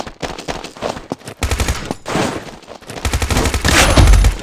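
Rapid bursts of automatic gunfire from the mobile first-person shooter Combat Master, with dense clattering volleys that swell louder toward the end and keep going without pause.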